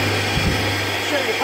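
A carpet cleaning machine with its pump and both backs switched on runs as a steady, loud motor hum with a constant low drone throughout, with a brief thump in the middle.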